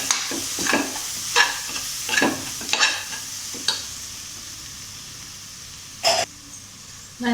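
Tomato and spice masala with coriander powder and garam masala being stirred as it fries in a pan for egg biryani: a spoon scrapes in bursts over a steady sizzle, with a sharp clatter near the end.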